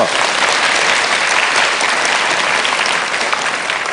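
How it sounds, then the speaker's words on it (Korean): A studio audience at a Korean lecture-show bursts into steady, loud applause, dense clapping filling the whole stretch without pause, welcoming a guest's mother-in-law from the crowd. "박수로 환영을 좀 해주시고요"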